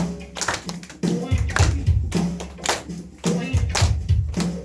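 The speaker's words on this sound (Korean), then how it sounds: "박수 할까요?" A congregation at a church ceremony claps hands in a steady rhythm, loud and near, while voices talk and sing over the beat.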